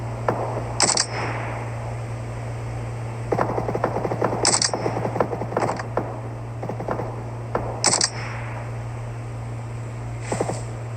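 Gunfire in PUBG Mobile comes as several separate bursts of sharp, cracking shots a few seconds apart, set against a steady low hum and faint background rustle, with no voices.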